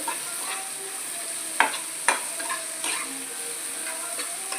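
Chana kofta curry ingredients stirred in a pan with a spoon, a soft sizzle underneath and a few distinct scraping knocks of the utensil against the pan, no talking.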